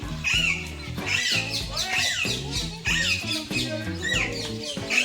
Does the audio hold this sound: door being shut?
no